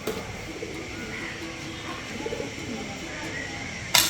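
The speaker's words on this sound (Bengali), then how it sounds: "ক্যাকটাস গাছের উপরে কবুতর পড়ে আছে" A pigeon perched on a cactus plant coos softly in low repeated calls over quiet outdoor ambience at a Tagore heritage building in Shahzadpur, Sirajganj, ending with a brief sharp noise.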